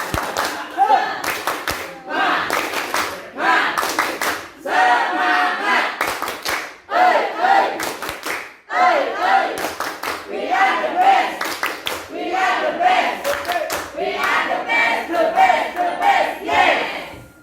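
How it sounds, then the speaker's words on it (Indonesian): A group of Indonesian teachers performs a rhythmic spirit clap, sharp synchronized claps in patterned bursts alternating with loud chanted shouts, repeating for a long stretch. "tepuk semangat"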